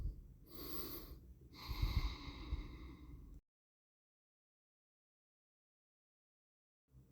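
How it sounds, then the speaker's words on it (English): Slow Ujjayi yoga breathing in a seated butterfly pose: two audible breaths, the first a short rushing inhale, the second a longer, louder exhale, close and alone, then silence. "You can use Ujjayi breath."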